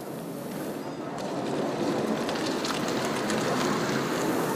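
A Mitsubishi i-MiEV electric small car pulls away in automatic drive, giving a quiet, smooth hum and broad rushing road and wind noise that swells slightly as it gathers speed, with no engine or exhaust roar.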